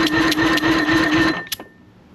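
A 1974 Thunderbird boat engine cranks over on the starter during a compression test, a steady rhythmic chugging with a whirring tone that runs about a second and a half, then stops abruptly, followed by a couple of faint clicks.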